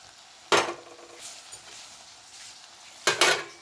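Coconut powder and coriander powder fry in a pan for a green-chilli brinjal fry, heard as two loud bursts of scraping and clattering against the pan separated by a quiet stretch with a faint tap in between; no speech.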